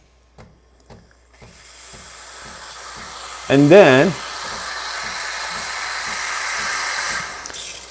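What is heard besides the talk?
Breville Barista Express espresso machine steam wand steaming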